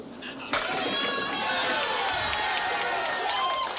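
Spectators at a candlepin bowling match burst into cheering after a strike, a loud crowd roar rising suddenly and holding steady, with whistles and shouts mixed in.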